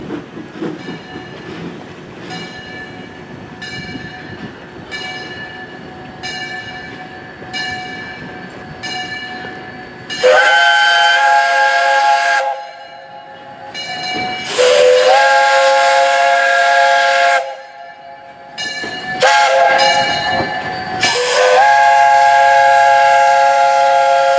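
Nickel Plate Road 901 steam locomotive at a railroad crossing in Lebanon, Ohio: rhythmic rumbling and clanking as the train moves, then loud, prolonged steam whistle blasts in several long and short sounds, close by.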